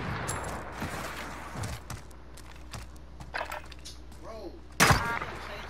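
A sniper rifle in Call of Duty: Modern Warfare fires one loud, sharp shot near the end, preceded by quieter in-game clicks and thuds while players talk.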